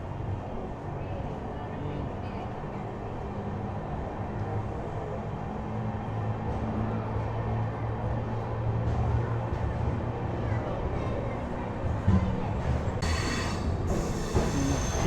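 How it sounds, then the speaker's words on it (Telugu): Intercity Express train pulling into platform 1 at Coimbatore station, a steady low rumble of wheels and carriages that swells slightly toward the end, with a brief bright squeal or hiss near the close. "మన ట్రైన్ ప్లాట్ఫామ్ నెంబర్ 1కి వచ్చిందండి కోయంబత్తూర్లో"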